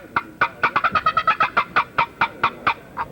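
Rapid series of sharp clucks from a wooden turkey box call imitating a turkey, about fifteen quick strokes in an uneven rhythm, loud and close with no other sound.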